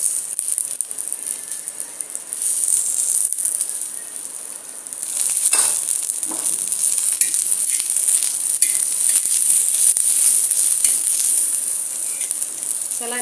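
Green chillies roast in a pan with a steady, bright sizzle and crackle that runs unbroken throughout, punctuated by occasional light clinks and rattles.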